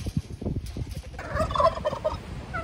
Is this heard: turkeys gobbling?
yes